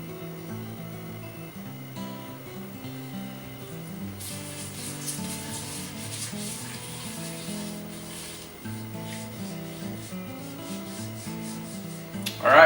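A hand rubbing olive oil around a pan, with soft, continuous close-up smearing and friction over faint background music, ending in a brief louder knock.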